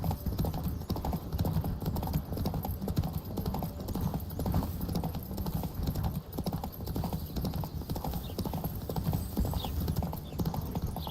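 Rapid clip-clop of galloping hooves runs continuously and loudly in a video game, with a faint horse whinny and rushing, busy background noise.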